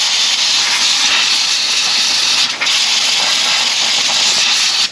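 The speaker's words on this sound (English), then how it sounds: "I'm gonna go ahead and spray all this stuff out." Electrical contact cleaner sprays loudly from an aerosol can into the relay box of a 1995 Jeep Wrangler 4.0. It is a close, continuous hiss with one brief break midway.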